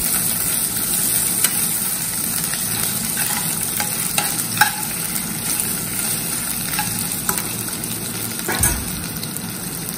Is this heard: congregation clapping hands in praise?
no